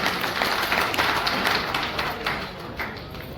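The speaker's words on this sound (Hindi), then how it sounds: "जोरदार तालियों से स्वागत करें।" A crowd at a public assembly meeting in Pilkhuwa claps loudly to welcome a speaker, a dense, steady patter of many hands without pauses.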